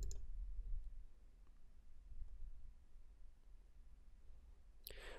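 A single crisp computer mouse click near the end, saving a report in reporting software, stands out over a quiet room hum.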